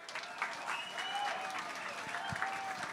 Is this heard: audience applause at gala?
yes